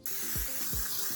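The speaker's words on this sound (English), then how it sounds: "first I am going to spray my non-stick pan" Pam cooking spray hisses steadily onto a non-stick pan, a close, bright burst lasting just over a second, with a couple of faint low knocks underneath.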